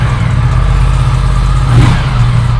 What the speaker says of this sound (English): This baby right over here is the Aprilia RS 457 twin cylinder